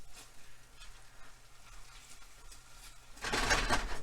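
An egg cooks softly in a frying pan, giving a steady low sizzle that swells into a louder, brighter frying burst near the end, with no voices.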